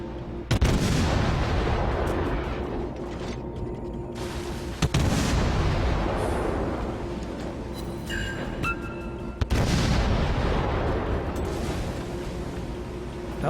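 Heavy naval gunfire from warships in a video game booms repeatedly, three big deep blasts with long rumbling decays, plus a few thinner sharp reports in between.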